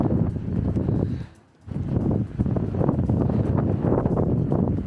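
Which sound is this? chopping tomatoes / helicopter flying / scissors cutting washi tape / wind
wind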